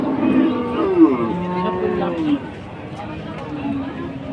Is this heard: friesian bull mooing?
yes